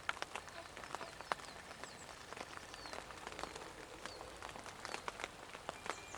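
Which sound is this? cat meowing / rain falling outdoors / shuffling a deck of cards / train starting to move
rain falling outdoors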